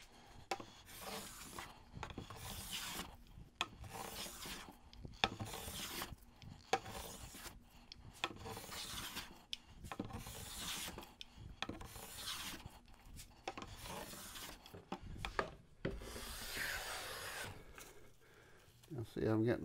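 Hand plane shaving along a wooden board, giving repeated rasping strokes in a steady back-and-forth rhythm, close and fairly loud, with the strokes separated by short pauses.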